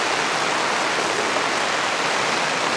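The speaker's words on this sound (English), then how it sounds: "Hard to hear over this rain beating down on this canopy." Heavy rain pounds on a pop-up camper's canopy, a dense, constant hissing roar that stays loud and unbroken throughout, close by and with no voices.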